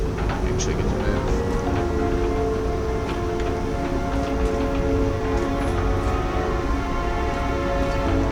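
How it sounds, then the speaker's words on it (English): Heavy rain in the video game Nobody Wants to Die, a dense continuous downpour pattering on surfaces, loud and unbroken. "I'm hoping once I get inside there's not so much rain"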